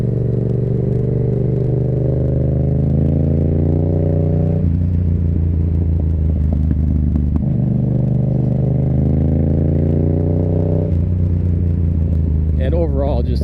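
A Yamaha XSR700 motorcycle fitted with an M4 exhaust is ridden steadily, its low engine drone rising and falling through gear changes at close range, with steady wind noise throughout.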